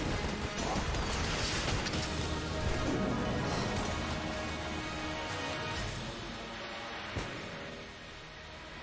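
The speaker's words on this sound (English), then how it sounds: "I heard one explosion." Dense, crackling crash of an explosion in the video game Enter the Gungeon, a loud wash of debris-like noise that slowly tapers off, with a sharp hit near the end.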